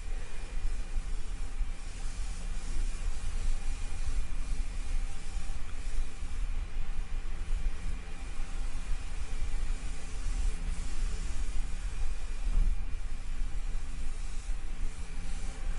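An airbrush fed from a Fast Blast bottle sprays paint steadily, held well back and moved quickly, giving a constant even hiss with no pauses or talk.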